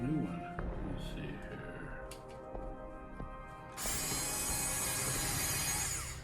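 An electric power tool unbolts a part. Mechanical whirring and clicking come first, then a loud, steady, high-pitched whine that runs to the end, close to the listener, with a voice talking early on.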